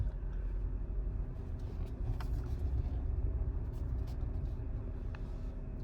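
A car drives along in a low, steady engine rumble heard from inside the vehicle. It is fairly faint and has no talk over it.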